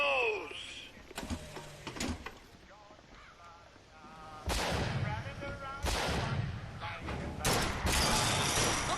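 Sharp rifle cracks from a sniper ring out in the game Bioshock Infinite, several loud bursts spaced across the stretch among game sounds and effects, with some speech in between.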